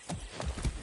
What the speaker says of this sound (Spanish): no me subo a un caballo desde el entrenamiento